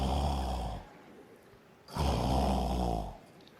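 A person snores loudly while asleep: two long, rasping, rumbling snores separated by a quieter pause, each swelling and fading, close to the listener and with no talking.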